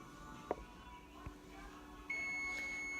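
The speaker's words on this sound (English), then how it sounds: "Okay, there's the beep." A faint electronic oven timer beep sounds and holds steady at the end, after a couple of soft clicks in a quiet room.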